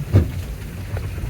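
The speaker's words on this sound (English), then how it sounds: "Raining in my car." Rain drums steadily on a car while driving down a road in Ecuador where a waterfall runs across it, giving a low, continuous wash with one brief louder burst near the start.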